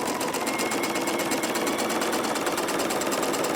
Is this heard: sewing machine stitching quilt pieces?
yes